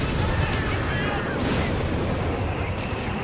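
A point blank blast in Company of Heroes 3, with dense battle booms and gunfire filling the scene while a commentator talks over it.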